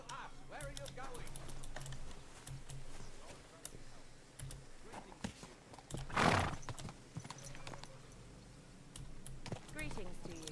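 A horse in Kingdom Come Deliverance 2 clip-clops along with rhythmic hoofbeats and gives a loud whinny midway, while voices talk and keyboard clicks tick in the background.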